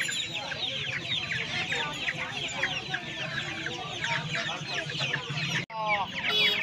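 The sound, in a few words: chickens clucking at Uluberia hen market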